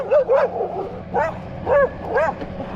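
Several dogs bark and yip in short bursts, about four loud, close barks spaced through the moment, along a quiet village road in the mountains passed by bicycle.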